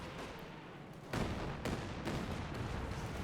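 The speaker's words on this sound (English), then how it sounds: "And there comes the caddy barrage." A caddy artillery barrage in a PS5 video game lands as a dense rumble of blasts, with heavy booms stacking up after a softer opening and holding loud to the end.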